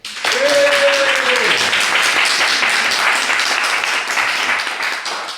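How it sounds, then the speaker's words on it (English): Audience applause fills an exhibition hall after a speech at an HIV-themed exhibition, a dense, steady wash of clapping lasting several seconds, with a brief voice at the start. "So I clap for Zoe."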